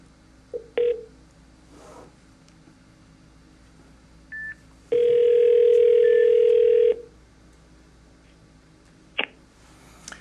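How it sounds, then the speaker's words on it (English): Mitel 6900 series desk phone redialing a call: a few short beeps and a brief tone, then a steady two-second dial tone, then another short beep, all clear and close with no talking. "So I'm going to hit redial."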